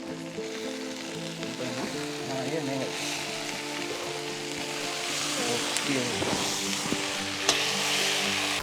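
Guda, a Telangana dish, frying in a pan with a steady close sizzle and crackle, stirred now and then, while a voice talks faintly underneath.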